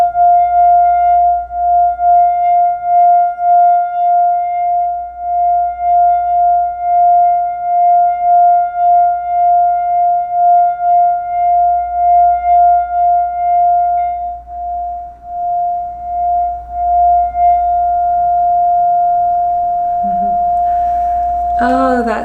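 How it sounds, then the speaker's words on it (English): A singing bowl rung during an oracle reading session, holding one pure, sustained tone with a gentle wavering pulse for about twenty seconds before it is stopped, ending with a brief sound of handling. "we will grab and start off with our singing bowl"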